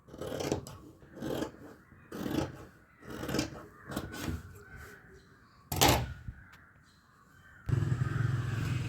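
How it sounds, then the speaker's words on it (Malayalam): Scissors cut through saree blouse fabric in short bursts, several separate snipping and rasping strokes with brief pauses between them, close and moderately loud, ending in a steadier rustle. "നമുക്കിത് കട്ട് ചെയ്ത് കൊടുക്കാം"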